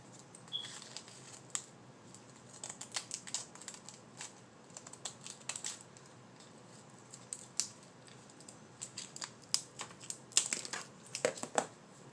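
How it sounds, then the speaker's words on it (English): Scissors trim the ends off a dollar-store fall craft piece for a topiary and wall-sign project, making sharp, close snips and crinkling sounds in irregular bursts, with no talk. "let me cut the ends off"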